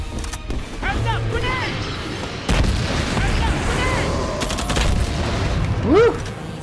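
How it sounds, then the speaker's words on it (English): In the video game Earthfall, a grenade goes off with a loud, close blast partway through, amid a chaotic firefight of rapid gunfire and creature screeches, with voices talking over the action. "Heads up, grenade!"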